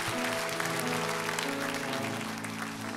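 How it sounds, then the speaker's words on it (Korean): A church congregation at a Sunday worship service claps in thanks, a dense, sustained wash of applause that holds steady and fades slightly toward the end, with organ or keyboard tones sounding beneath. "감사의 박수 한번 드리면 좋을 것 같습니다"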